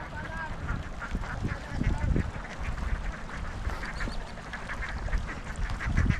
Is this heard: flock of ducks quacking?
yes